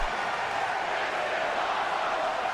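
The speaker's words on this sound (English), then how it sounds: "And the crowd is into it." A wrestling crowd cheers in a continuous, even roar of many voices, a broad wash of sound holding steady throughout.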